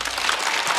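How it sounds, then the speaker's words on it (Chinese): A short burst of studio audience applause for a stand-up comedian on a comedy show, dense and steady. "来，再次掌声送给毛豆。"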